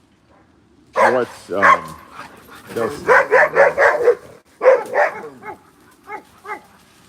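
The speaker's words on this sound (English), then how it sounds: "There's lots of dogs in the neighborhood too, so someone walks by, you can hear the barking as they travel." Dogs bark in a village neighborhood, a run of loud close barks and yips in quick bursts with a brief whimper, and a person speaks briefly among them.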